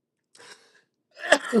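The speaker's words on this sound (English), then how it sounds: "the sneeze attack is hitting me" A short breathy intake followed by a sharp, loud sneeze burst, close to the mic with no talking.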